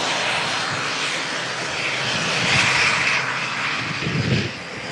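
An aircraft engine at Manchester Airport roars steadily at a distance, a broad rushing drone that swells slightly toward the end.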